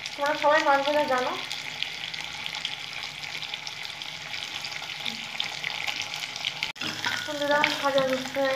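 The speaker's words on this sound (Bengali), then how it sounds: "মাছগুলো আমি ভেজে নেব।" Small tengra catfish fry in hot oil with a steady, crackling sizzle throughout, and the pan is stirred. A voice speaks over the start and again near the end.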